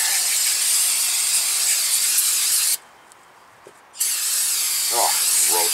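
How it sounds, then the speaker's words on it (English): Brake cleaner sprayed onto a rusty front brake caliper of a 2003 Toyota Corolla, a loud close continuous hiss that cuts out for about a second, resumes, then a voice briefly speaks over it. "I'll saturate this one with some brake cleaner."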